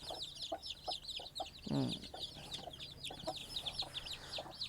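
A hen and her chicks cluck and peep inside a cement ring brooding pen, with steady high chick cheeps over repeated low hen clucks and a louder burst of clucking near the middle.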